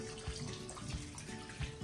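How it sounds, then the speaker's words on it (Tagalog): Water runs and splashes steadily into a cooking pot of chicken at close range, a continuous gurgling pour with no talking. "magdadagdag na tayo ng tubig para pampalambutin yung ating manok"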